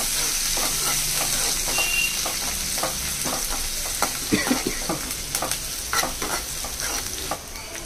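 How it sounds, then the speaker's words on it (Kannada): Onions frying in a pan and being stirred, a bed of sizzling oil broken by repeated scraping and clattering strokes of a spoon, growing busier toward the end. "ಸೊ ಈಗ ನಾನಿಲ್ಲಿ ಫಸ್ಟು ಸ್ವಲ್ಪ ಈರುಳ್ಳಿನ ಹುರ್ಕೊತಾ ಇದ್ದೀನಿ."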